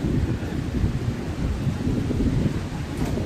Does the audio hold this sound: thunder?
yes